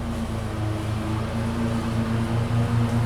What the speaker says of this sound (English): You may hear a lawnmower in the background.